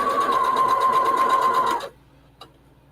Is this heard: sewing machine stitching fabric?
yes